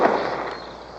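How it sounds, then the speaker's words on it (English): A single loud gunshot from a western film rings out at the very start and then decays into a long, fading reverberant tail, with no voices. "Next time I won't miss, Black Bart."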